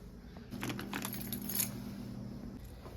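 Keys jangle close by in a few quick metallic bursts that settle into faint background noise.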